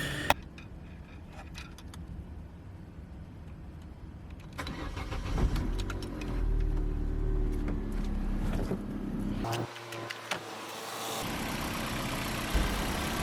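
Opel Corsa B with a 1.2 Ecotec engine, just fitted with a new belt, tensioner and engine mount, starts and runs at a steady close idle after a brief crank, with no talk over it.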